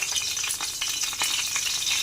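Ghee heating in a pan, a steady close hissing sizzle with small crackling pops, moderately loud and alone with no talk.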